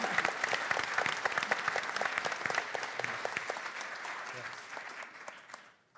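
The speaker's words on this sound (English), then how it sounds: "a little warm round of applause" Warm applause from a concert audience at the Mendocino County Professional Pianist Concert, distinct individual claps within a steady round that tapers off and stops.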